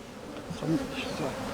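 Bees buzzing around a hive being prepared at a stingless-bee keeping fair, a close, steady insect hum with slight swells, heard alone for a brief moment.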